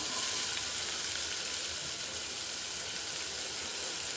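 Chopped onion sautéing in oil with cumin seeds, a steady, close sizzle that holds even and loud throughout with no voices.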